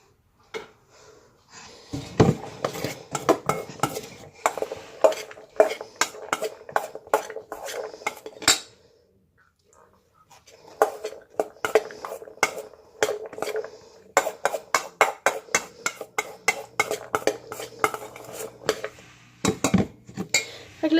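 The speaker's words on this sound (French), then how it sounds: "moi, je voulais une cuillère pour brasser" A spoon clatters and scrapes against a bowl while stirring a homemade pollock salad, heard as dense bursts of close metallic clinks with a brief pause midway.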